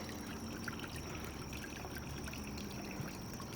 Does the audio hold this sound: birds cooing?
no